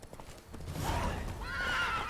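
Roach, the horse in The Witcher 3, gives a loud close whinny while hooves clop beneath it, the neigh rising and trailing off over about two seconds.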